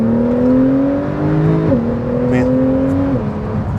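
A 2018 Porsche 911 Carrera S engine revs steadily, its pitch stepping down sharply twice as the paddle shifter snaps through gears, with someone talking over the close, loud cabin drone.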